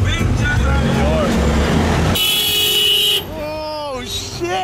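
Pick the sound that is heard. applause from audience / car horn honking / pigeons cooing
car horn honking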